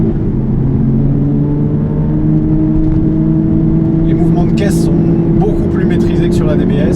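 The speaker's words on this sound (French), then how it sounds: "Même de l'intérieur, on entend hyper bien le moteur. À 3000 tours, ça résonne." Aston Martin V12 Vantage S engine heard from inside the cabin with the window closed, a loud steady resonant drone at around 3000 rpm, with faint scattered ticks and clicks rising toward the end.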